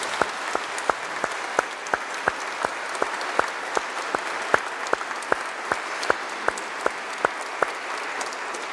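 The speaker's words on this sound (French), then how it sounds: "On les applaudit." A congregation in a parish church at an Easter service applauds in slow, evenly spaced single claps, each sharp and distinct over a soft hiss of room noise, steady throughout.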